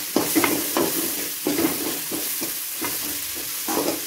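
Capsicum being sautéed in a pan, a steady sizzle broken by regular scraping stirs roughly every second, close and fairly loud with no voices.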